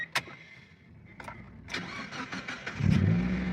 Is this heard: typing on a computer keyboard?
no